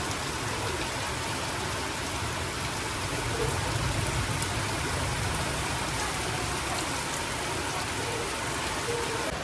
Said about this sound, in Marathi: पाऊस पडायला लागलाय बाहेर